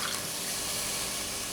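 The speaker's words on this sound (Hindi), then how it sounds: "पहले मैं पानी डालूँ ताकि कोई प्रॉब्लम ना हो" Water pours steadily into a cooking pot while a spiced curry is being prepared in a home kitchen, a continuous close splashing rush with no one talking.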